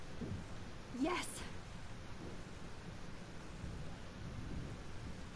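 Thunderstorm in the video game Life is Strange, with a steady wash of rain and wind and a sharp crack of thunder early on, then continuing storm rumble.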